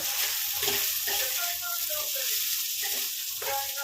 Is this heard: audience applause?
no